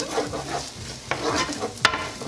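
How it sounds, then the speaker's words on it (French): Shallots and onions sweating over medium-low heat in a pan for chicken and shrimp fried rice, sizzling steadily, with a utensil stirring and scraping in a few sharp strokes, close and fairly loud, no talking. "alors je mets les échalotes et les oignons que je vais faire revenir, on va les faire suer"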